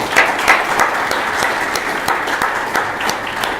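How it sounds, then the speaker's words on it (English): Steady applause from a forum audience for a panel, dense clapping throughout at a consistent loudness. "A round of applause for our panelists."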